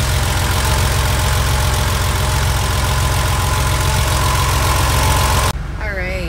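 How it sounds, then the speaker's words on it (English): A 1989 Porsche 911 Carrera Convertible with 71,000 original miles idles just after startup. The engine holds a loud, steady, even rumble up close, then cuts off abruptly near the end. "I'm going to get the car started up. You can hear the engine"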